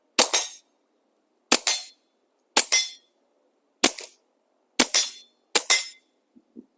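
Six suppressed gunshots fire one at a time on a range, each a sharp muffled crack with a short tail, spaced roughly a second apart with silence between, plus a few small clicks at the end.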